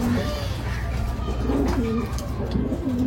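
Rampuri pigeons give a series of soft, warbling coos nearby, the calls spaced out over steady background noise.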